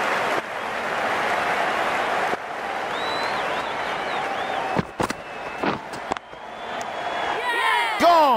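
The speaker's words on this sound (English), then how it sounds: "The crowd on their feet." A stadium crowd in the cricket video game Cricket 19 cheers as a steady, loud roar, with sharp knocks and clattering hits toward the end.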